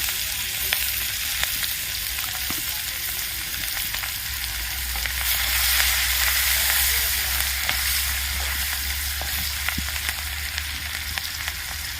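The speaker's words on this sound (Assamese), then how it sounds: "এতিয়া মই তেলতে পিঁয়াজ দি দিলোঁ" Onions fry in hot oil with a steady, dense sizzle and crackle, heard close and constant, joined by occasional light stirring clicks and a low background hum.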